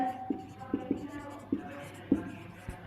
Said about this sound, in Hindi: पहले हम इक्वेशन लिखते हैं